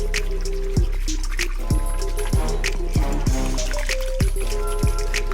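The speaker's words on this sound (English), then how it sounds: "we're literally going to whisk this into our sauce" Whisking ingredients into a chicken taco soup sauce produces wet, repeated squishing and sloshing strokes at a steady pace, close by, over a constant low background hum.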